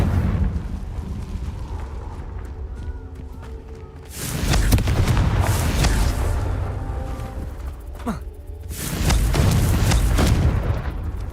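Two heavy Confringo blasting-spell explosions boom out in Hogwarts Legacy, each a loud, rumbling burst that sustains for a few seconds over a constant low background.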